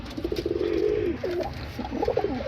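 Pigeons kept at home coo nearby in throaty, rolling phrases, one long low coo followed by a choppier run of repeated calls, with no voices over them.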